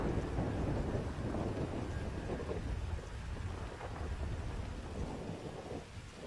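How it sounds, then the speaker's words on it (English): Thunder and heavy rain from a stormy night in Grand Theft Auto V, a dense continuous downpour with deep rumbling thunder rolling throughout, loud and steady with no voices. "Man, it is one dark and stormy night."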